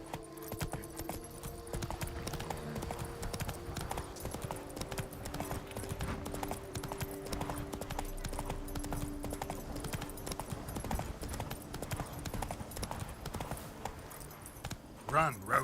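Roach, a horse in The Witcher 3, gallops along a road with steady, rapid hoofbeats under continuous game music and a speaking voice.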